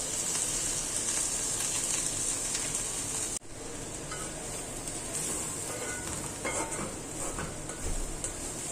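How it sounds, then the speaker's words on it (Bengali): Coriander leaves sizzle in a pan after onions have been fried in it, part of making a mashed bhorta dish. A steady, close sizzle with light stirring runs throughout and softens briefly partway through. "ধনিয়া পাতাটা ভাজা হয়ে গেছে"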